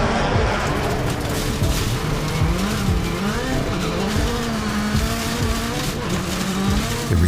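Rallycross race cars roar off the start line at full throttle, engines rising in pitch through gear changes with tire squeal, loud and continuous throughout.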